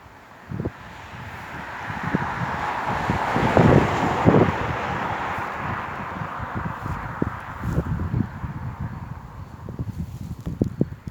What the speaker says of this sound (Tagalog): At ngayon po ay mahangin uli.